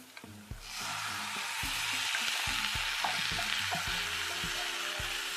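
Half-cooked mutton hits hot frying masala in a pan, setting off a loud, steady sizzle that swells after an initial clatter and continues evenly, with occasional stirring knocks underneath.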